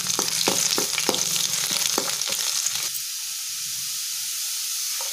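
Chopped garlic fries in oil with cinnamon, cloves and star anise for chilli garlic rice, a loud close sizzle with a quick run of rhythmic stirring clatters that stops halfway, leaving a softer steady hiss.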